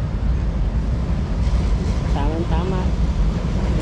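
A Manila MRT/LRT commuter train passes close by as a steady, loud rumble of wheels and motor with brief squealing tones, while someone talks over it.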